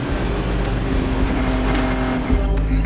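Renault Sport Trophy race cars on the Bugatti circuit at Le Mans in the 2015 season roar past in a steady, loud engine drone with a brief swell near the end, no voices.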